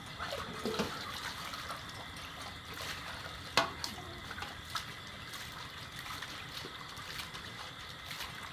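Second rinse of something being washed in a basin of water, with soft sloshing, trickling and small splashes throughout and a sharper splash near the middle, close by and fairly quiet.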